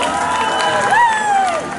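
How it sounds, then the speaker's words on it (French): A wrestling show crowd at Paris Manga applauds and cheers for the fighters, a dense, loud roar of clapping and shouts with whoops rising above it. "Sous vos applaudissements."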